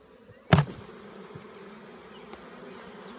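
A honeybee swarm in a swarm trap at a wilderness retreat, its top just taken off, starts with one loud thump and then settles into a steady, close, busy buzzing that lasts the whole clip.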